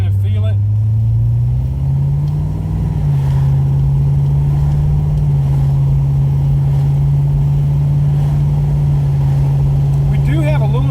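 Inside a car with a 4R70W automatic transmission on its original tune, out on the road: a steady, loud low engine and road drone holds throughout, with a brief rise in pitch early on and muffled talk in places.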